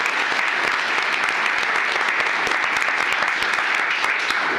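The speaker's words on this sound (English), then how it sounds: "Let's give him a round of applause." A commissioners court audience gives a dense, loud round of applause for a retiring county employee honored for 25 years of service, sustained clapping filling the room without pause.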